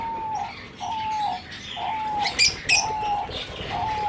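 A caged pet bird, likely a dove, gives repeated soft coos about every half second, with a few brighter chirps and a brief wing flutter in the middle, heard close up in a quiet room.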